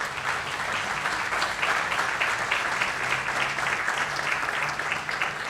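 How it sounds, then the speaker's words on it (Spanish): A studio audience claps for invited mental health specialists at a talk show, a steady, fairly soft wash of many hands with a low hum underneath and no one speaking. "les pido un fuerte aplauso para ellas"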